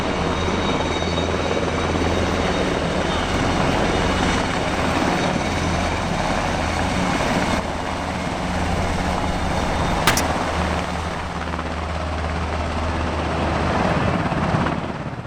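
UH-60 Black Hawk helicopters arrive at a military airshow with a loud, steady rotor roar and engine whine that holds throughout, with no talk over it.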